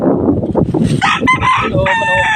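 A nearby rooster crows loudly, a drawn-out, strained call that follows a moment of speech and rises above the wind noise in a backyard chicken coop.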